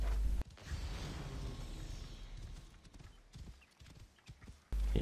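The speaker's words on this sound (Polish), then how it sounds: "A nie, tutaj koniami też jeżdżą, patrzcie." Horse hooves clip-clopping at a steady gallop in Assassin's Creed Origins, a continuous rhythmic run with a snort or whinny, loud and alone with no talk, cut by brief gaps near the start and end.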